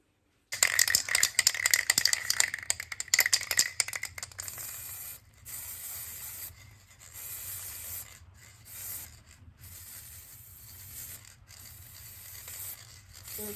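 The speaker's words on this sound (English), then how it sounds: "I'm going to spray paint gold and put on the radiator cover" A spray paint can rattles as it is shaken and then hisses in bursts while spraying gold paint onto cabinet knobs and fronts, close and loud, with short pauses between sprays.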